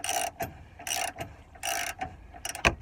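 A ratchet tightens a lower control arm bolt on a Dodge Grand Caravan, heard as several close, loud bursts of rapid clicking with brief pauses and metallic knocks between them.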